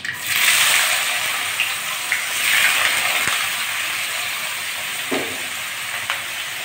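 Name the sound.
thinly cut potatoes frying in oil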